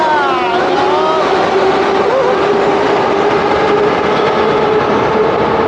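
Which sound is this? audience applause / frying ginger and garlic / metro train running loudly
metro train running loudly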